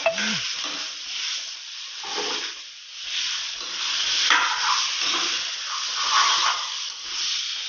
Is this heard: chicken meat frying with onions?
yes